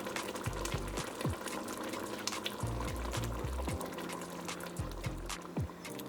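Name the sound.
pouring coconut milk into pot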